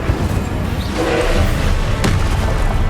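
In Hogwarts Legacy, the Confringo explosive spell lands with a heavy boom amid continuous loud battle rumble, one brief bright crack standing out near the end.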